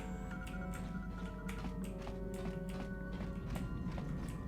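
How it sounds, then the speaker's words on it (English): Footsteps in the Star Wars: Knights of the Old Republic video game aboard a starship, a steady run of soft, evenly spaced taps over a low ambient hum, moderately near and without voices. "but I hear the soft patter of footsteps again."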